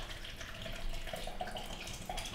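Cherry tomatoes are washed under a running kitchen tap, a soft steady stream of water with small splashes and drips, close and fairly quiet.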